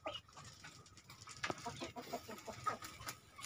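Several hens from a poultry farm breeding flock cluck softly and irregularly in the late afternoon after feeding, faint and somewhat distant, with scattered rustling in the background.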